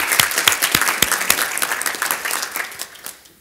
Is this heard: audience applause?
yes